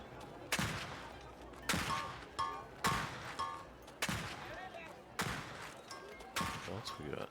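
A character firing a gun repeatedly in the game Highly Likely: six sharp, evenly spaced shots about a second apart, each with a ringing decay, loud and close.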